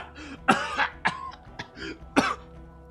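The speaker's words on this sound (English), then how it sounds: "Oh, that was a weird cough." A run of harsh, close coughs in quick, uneven bursts, some rough like throat clearing, with short quiet gaps between them.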